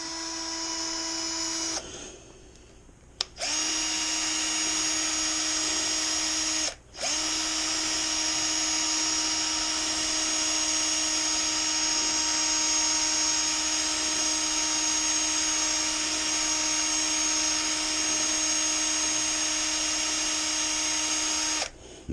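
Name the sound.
power drill stirring bentonite into pear and peach wine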